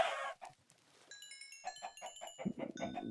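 Chickens in Minecraft give a run of clucks and squawks. They sound close and fairly loud, with a bright synthetic ringing tone layered over the middle stretch, and no speech.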